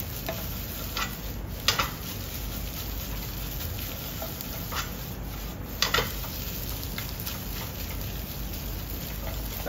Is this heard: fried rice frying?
yes